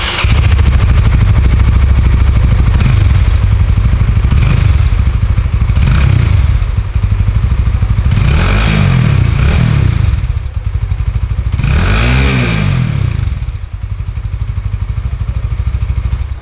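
A Honda RS-X motorcycle engine runs loud and close, idling with a rough clatter and revved several times in rising and falling bursts.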